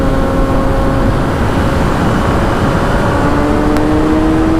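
A Honda CBR sport bike accelerates under steady engine roar, its pitch climbing through the gears, loud and close with wind rumble.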